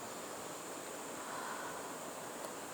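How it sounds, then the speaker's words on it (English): A waterfall rushes down nearby, a steady broadband roar of falling water, constant and even throughout, with no voices. "beautiful waterfall rushing down behind me"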